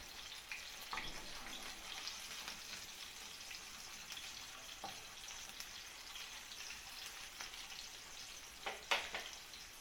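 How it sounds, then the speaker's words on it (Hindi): A chicken kebab patty sizzles steadily in a hot frying pan, with soft crackling and a few sharper pops and spits near the end, close and moderately quiet with no talking. "अब दूसरी साइड हम उसको फ्राई करेंगे।"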